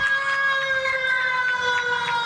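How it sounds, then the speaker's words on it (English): A sports field siren at a junior girls' tag rugby match signals halftime, a loud steady multi-tone wail held unbroken throughout with faint crowd noise beneath. "As we have the siren sounding now."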